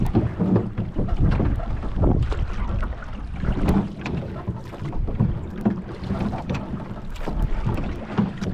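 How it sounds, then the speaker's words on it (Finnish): A stiff wind gusts and buffets the microphone while a rowboat is out on a lake for fishing, with rough, uneven rumbling surges close up and no talk. "Vähän kovempi tuuli tänään kuin eilen"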